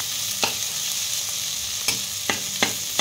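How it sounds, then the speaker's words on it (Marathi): Boiled potato mixed with crushed roasted peanuts gets stirred in a hot pan, a steady frying hiss broken by a few sharp spoon scrapes against the metal. "व्यवस्थित आपण हा बटाटा मिक्स करून घेऊया।"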